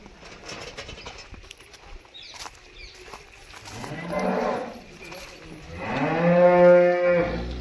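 A freshly calved dairy cow at a sale moos twice nearby, a shorter low call followed by a longer, louder one, with faint bird sounds in the background.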